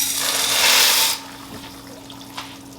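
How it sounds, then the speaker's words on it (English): A burst of hissing, bubbling water as dry pasta goes into a pot of boiling water, fading to a quieter simmer with a small clink afterward. "So I'm going to add my pasta"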